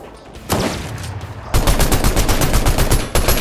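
Gunshots in the video game Fortnite, a single sharp shot followed after a pause by a fast, evenly spaced volley of loud close-range fire with no talking.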